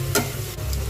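Chopped onion and four chopped tomatoes frying in a pan, a close, steady sizzle broken by a sharp stirring scrape near the start and a softer one later, without speech.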